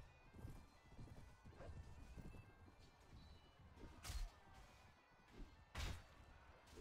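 Horse hooves clattering in the medieval combat video game Mount and Blade Warband, a busy in-game battle din with two sharp loud impacts standing out over the rumble.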